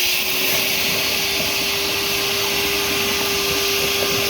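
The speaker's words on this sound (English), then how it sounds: "What is that, about a 2-inch electric dredge now?" An inch-and-a-half electric gold prospecting dredge runs at a creek with a constant, loud, droning motor whine and hiss and a steady tonal hum, unbroken throughout.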